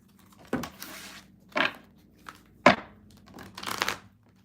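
Tarot cards are shuffled in a few quick bursts, four or five short papery riffles and slaps separated by brief pauses, close and fairly soft.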